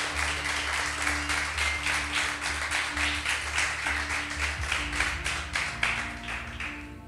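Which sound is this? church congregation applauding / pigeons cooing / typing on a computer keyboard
church congregation applauding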